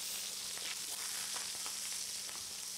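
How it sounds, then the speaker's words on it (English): Steaks and peppers sear on a Kool Grill portable barbecue, giving a steady, loud, hissing sizzle with soft crackles and pops throughout and no voices. "That's the sound of the Kool Grill giving you a true barbecue sizzle and taste."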